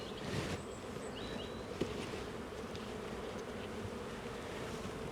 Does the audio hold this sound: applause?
no